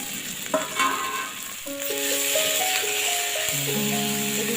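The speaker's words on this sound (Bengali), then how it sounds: "এবার একটু নেড়ে কেড়ে নিয়ে এদিকে পাঁচ থেকে ছয় মিনিট ভেজে নিতে হবে" Fried potatoes sizzle in spice paste in a pan while being stirred, with a few rattling scrapes early on over a continuous hiss and a background tune.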